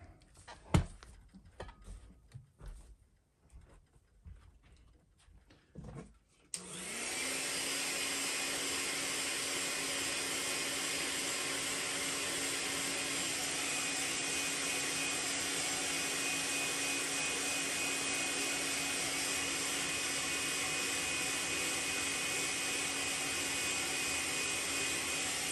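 A heat gun blows to heat-set paint on a fishing lure, a loud steady whooshing roar that starts abruptly after a few seconds of faint handling clicks and holds constant to the end.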